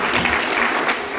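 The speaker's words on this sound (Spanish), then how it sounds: "Quiero que recibamos con un aplauso a nuestro amigo" An audience at a conference session claps steadily in a short, even burst of applause welcoming a speaker.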